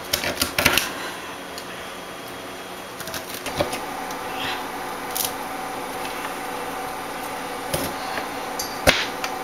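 A giant medicinal herb root cluster is broken and cut apart by hand, producing scattered sharp snaps and clicks close by over a steady, faint background hiss.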